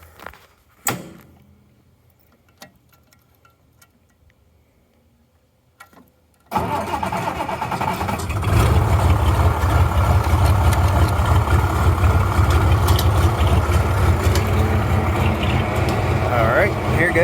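Oliver 1755 tractor engine cranks over after a few quiet clicks and knocks, catching into a loud, steady diesel-like idle that rumbles on continuously for the remaining ten seconds.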